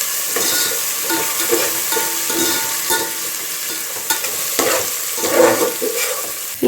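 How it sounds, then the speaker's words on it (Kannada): Fenugreek leaves fry and are stirred in a pan for a biryani, a steady close sizzle with scraping stir strokes throughout, no voices. "ಮೆಂತ್ಯ ಸೊಪ್ಪು ಸ್ಮೆಲ್ ಹೋಗೋವರೆಗೂ ಫ್ರೈ ಮಾಡಬೇಕು."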